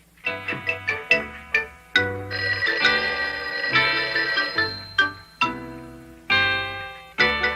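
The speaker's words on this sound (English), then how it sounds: "there's the phone" A telephone ringing in a sitcom scene, a run of repeated bell-like tones in a jaunty, uneven rhythm, some notes held longer, clear and up close with no talking.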